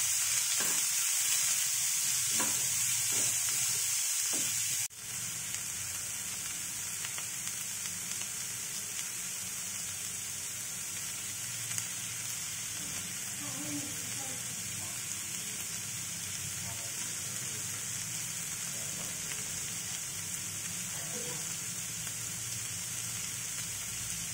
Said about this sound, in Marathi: आता आपण याला छान असं फुल फ्लेमवर फ्राय करून घेणार आहोत